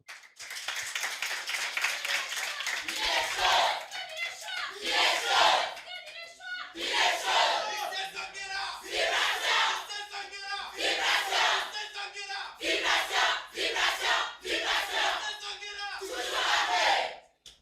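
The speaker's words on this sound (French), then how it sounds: "Merci d'accueillir sous un tonnerre d'applaudissements le lycée Zanguera" A large school crowd at a sports match cheers, shouts and claps in loud waves that keep swelling and dipping, for a high school team being welcomed onto the field.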